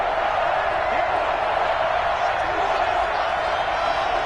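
A stadium crowd at an NFL game between the Bears and Buccaneers builds into a sustained roar before a big third down, a broad steady wall of noise with scattered cheers and whoops.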